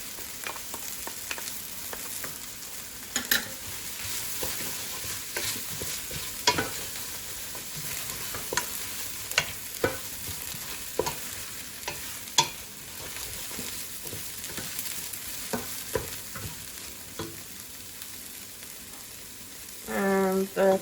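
Tomato paste sizzling in a frying pan for lubia polo, a steady crackling fry with repeated scraping clicks of a spoon stirring, close and continuous, with a brief louder scrape near the end.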